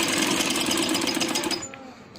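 A sewing machine runs a straight double line of stitching on a handmade baby boy's dress, a quick close chatter of needle strokes that slows and stops after about two seconds.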